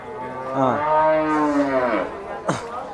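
A calf at a cattle market lets out one long, drawn-out moo up close, followed by a brief sharp call a moment later.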